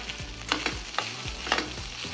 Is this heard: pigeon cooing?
no